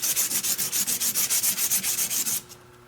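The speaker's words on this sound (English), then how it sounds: "Now that all the hand sanding is done" Handmade pendant's back being hand sanded flat, a close, brisk rasping scrub in about twenty quick even strokes that stops abruptly near the end.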